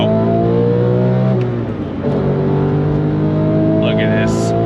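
2004 Porsche 911 GT3 flat-six on throttle on a twisty road: a loud, rising engine howl climbs steadily, eases briefly as a gear changes, then builds again from close inside the cabin.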